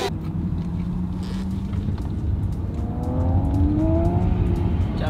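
A race car passes close by at a motorsport event, its engine note rising and sweeping in pitch as it revs and accelerates past, loud and steady, with no talk.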